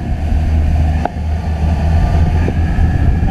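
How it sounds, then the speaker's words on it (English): The engines of a 2000 Jaws Lorequin 24 center console boat run at cruising speed during a sea trial, a loud steady low drone with a brief thump partway through. "Engines are trimmed up just a little bit."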